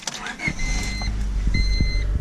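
A car engine cranks and fires up after its fuel pump kill switch is turned back on, with a short starter whine followed by a close, loud, steady idle rumble.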